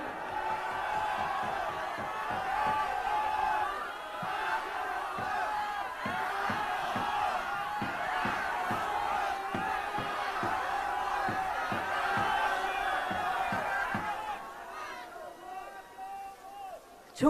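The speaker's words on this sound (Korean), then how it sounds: "여러분 큰 박수로 맞아주십시오" A crowd at a People Power Party political rally in Korea cheers and applauds, a continuous roar of voices with rhythmic clapping and chanting beats through the middle, fading toward the end.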